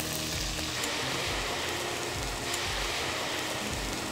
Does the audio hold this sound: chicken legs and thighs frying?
yes